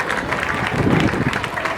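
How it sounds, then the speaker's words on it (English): Audience applause at an outdoor sod-cutting ceremony for a school cluster rehabilitation, a dense steady wash of many hands clapping throughout, with faint voices mixed in. "Let's give him a round of applause."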